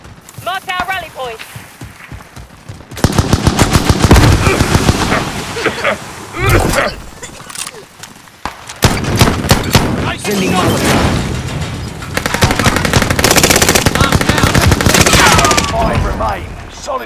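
Rapid bursts of gunfire in Call of Duty: Warzone, loud, dense volleys recurring throughout and under game voice callouts.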